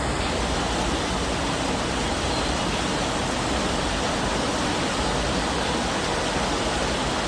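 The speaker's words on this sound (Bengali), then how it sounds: "বেশ জোরেই নামছে বৃষ্টি" Heavy rain pours down steadily in a dense, even hiss that stays constant and fairly loud throughout, with no voices.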